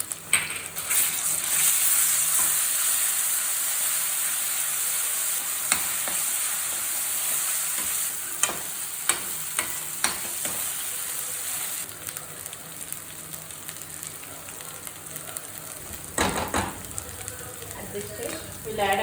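Onions and ginger garlic paste fry in a pan at a street-food chicken fry stall, a steady loud sizzle with scattered scraping stirs and clinks of the pan, and voices briefly under it.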